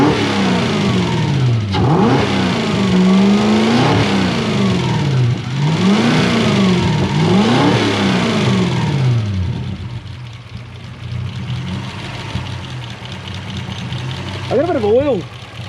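Engine of a Mazda B2000 ute with a 1UZ swap, reported to bog down and lose drive, revving up and down in repeated surges before settling to a quieter idle, with a brief final rev near the end.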